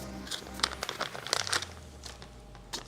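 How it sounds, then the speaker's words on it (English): A plastic bag wrapping a phone mount is unwrapped by hand, giving a run of close, sharp crinkles and rustles in irregular bursts, with no voices. "Plastic bag."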